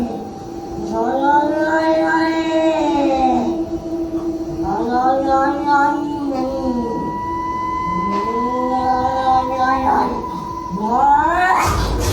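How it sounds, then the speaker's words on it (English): A frightened cat yowls and caterwauls in long rising and falling wails, repeated several times loud and close, with a sharp hiss-like burst near the end. "the cat just keeps freaking out, still seeming to sense that there is something dangerous nearby"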